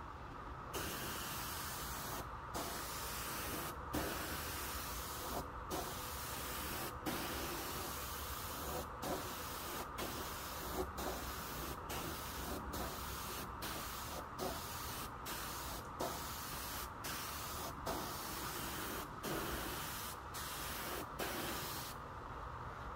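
Ultra clear coat sprayed onto a restored car headlight, a loud close continuous hiss broken by many brief, regularly spaced pauses as the sprayer passes back and forth.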